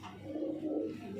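Pigeons kept by a fancier in Uttar Pradesh give a short, soft, low coo nearby, one brief throaty phrase with no voices over it.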